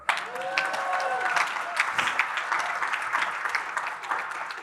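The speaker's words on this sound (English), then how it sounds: "You're supposed to clap." Conference audience applauding after a talk announces the first overdose prevention centers opening in the United States, a steady wash of clapping that holds for several seconds, with some voices mixed in.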